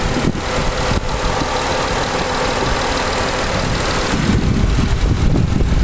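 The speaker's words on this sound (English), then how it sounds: "Currently running, so you can hear how well it runs." A 2004 Mitsubishi Endeavor engine idling under an open hood, a loud, close, steady hum with a faint rhythmic knock running through it, smooth and constant throughout with no talking.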